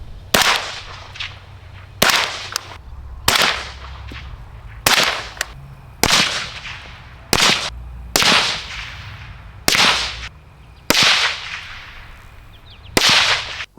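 Suppressed shots from a Wolfpack Armory Romulus 5.56 rifle on a 20-inch barrel, ten sharp cracks at a steady interval of about one per second and a half, each with a short trailing echo, close and loud.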